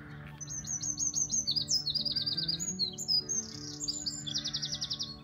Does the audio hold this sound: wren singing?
yes